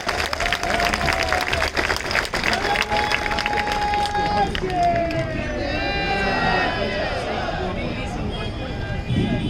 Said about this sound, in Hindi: जोरदार तालियां बजे मेघा पाटकर के लिए।